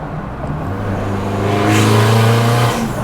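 A tuned car engine with an aftermarket exhaust accelerates hard at a tuning shop, its loud, rising drone swelling steadily with a rasping edge, close and without any talk.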